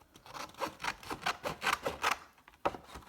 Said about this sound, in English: You're just cutting it out on the score line.